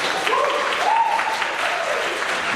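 An audience at a high school spring concert claps steadily, a dense, even wash of applause heard from within the hall, with a faint voice briefly audible underneath.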